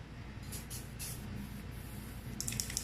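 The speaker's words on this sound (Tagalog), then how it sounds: "Okay, so I'm just going to wet it now using my Evian spray." An Evian facial water spray mists a makeup sponge in a few short, soft hissing bursts, close by, with a brighter double burst at the end.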